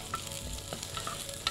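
Onions frying in ghee or oil, a short close sizzle with soft stirring scrapes and a faint clink at the end.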